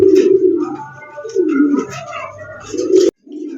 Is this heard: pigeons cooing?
yes